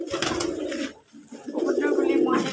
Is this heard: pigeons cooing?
yes